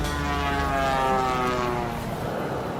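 A man mimics a propeller airplane with his voice, holding a steady, buzzing drone for a few seconds that fades slightly toward the end, close to the listener.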